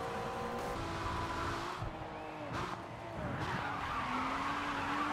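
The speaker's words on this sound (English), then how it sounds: "Oh, he used his handbrake too intensely there. He spun himself completely out." In the racing game Rough Grid 2, a car locks up under too much handbrake and spins out. Tires squeal in long sliding skids over a steady engine drone, with the pitch of the squeal wavering as the car rotates.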